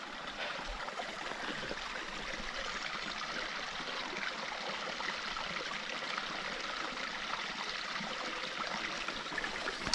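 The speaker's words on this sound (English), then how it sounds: "So the water comes out. Doesn't come out fast." Water trickles steadily from a portable backpacking water filter outdoors, a continuous soft babbling splash with no voices.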